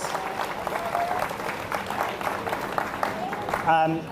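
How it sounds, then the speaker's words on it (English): A crowd at a national youth bouldering championship final applauds the volunteers, giving a moderate, steady clatter of clapping with talk or an announcer's voice mixed in and a brief louder flourish near the end. "Big round of applause to yourselves and the volunteers, all the volunteers."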